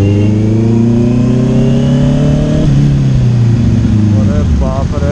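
Motorbike engine revving as it moves, loud and close, a steady droning hum whose pitch rises and then drops midway before climbing again, with voices talking over it.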